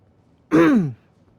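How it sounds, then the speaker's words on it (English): A single short, close throat clearing, a quick rough rasp lasting about half a second against near silence. "I had to clear my throat."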